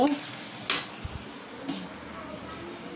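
Garlic stirred and frying in a pan for a Bengali home meal, a steady close sizzle broken by a couple of soft scraping stirs and light utensil knocks.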